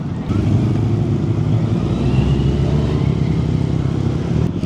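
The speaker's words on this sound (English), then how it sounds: "there's more bikes coming down the main road here" A steady engine drone of passing road traffic on a main road at Matlock Bath on a bank holiday, motorbikes rumbling along at a constant pace, fairly close and loud with no talking.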